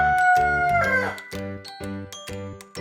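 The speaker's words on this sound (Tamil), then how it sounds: "சேவல்." A rooster crows over a bouncy backing track of rhythmic music, the call rising and trailing off near the start before the beat carries on alone.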